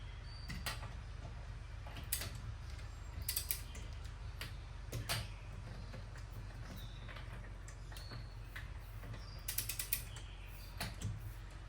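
A torque wrench tightens M12 lug nuts on a Honda CR-V, giving faint scattered metallic clicks and creaks in irregular clusters over a low steady background hum.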